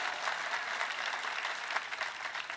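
Audience applause at a fan panel with Tom Hiddleston, a brief, even burst of many hands clapping throughout.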